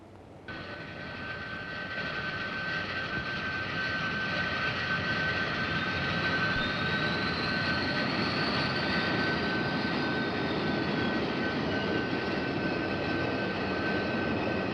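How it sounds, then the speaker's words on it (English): Jet aircraft engines spooling up on a 1950s naval flight deck, a steady loud roar with a rising high whine that builds over the first seconds and then holds, with no voices. "Start jets."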